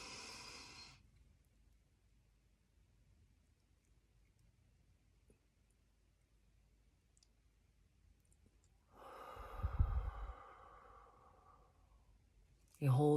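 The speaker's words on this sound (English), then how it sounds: "And then I like to take a deep breath." A deep calming breath drawn in, then a long pause of near silence while it is held, followed by a soft, breathy release close by.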